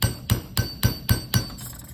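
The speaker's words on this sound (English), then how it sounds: "these are hammers that you can hammer directly on copper." Repeated hammer blows directly on copper for metal texturing, six bright clinking strikes in an even rapid rhythm, close-up and ringing with no voices.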